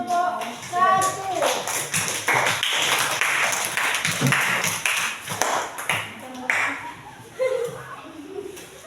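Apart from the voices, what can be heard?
applause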